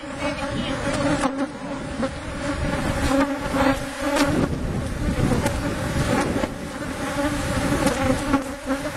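Dense, steady buzzing of many honeybees around hives during an inspection, loud and close, with some wind rumble against the microphone and no voices.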